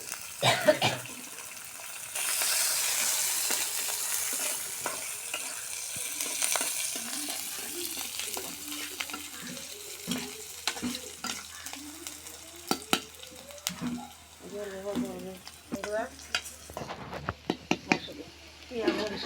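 Chopped garlic, onion and green chilli frying in a pan with dry chilli and cumin, a sizzle that swells and then sits under frequent clattering, scraping and talking nearby.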